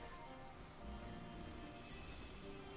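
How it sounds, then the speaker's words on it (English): Steady, dense rain patters across the whole stretch in Pokemon Scarlet's Teal Mask area, a constant broadband wash with no break, moderately loud and with no voices over it. "Oh, good, it's raining."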